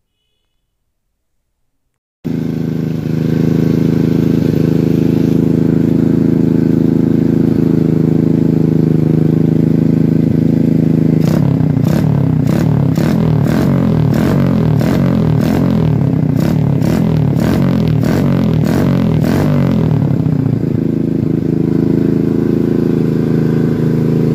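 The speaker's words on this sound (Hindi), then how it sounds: "बाइक की मैंने एग्जॉस्ट की साउंड आपको पहले ही सुना दी है" A modified Hero Splendor motorcycle exhaust idles with a deep, rumbling note, then barks through a series of sharp, rapid throttle blips before settling back to idle.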